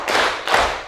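Two broad claps sound in a classroom, spaced about half a second apart, each ringing briefly.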